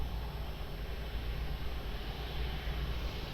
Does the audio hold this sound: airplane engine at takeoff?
yes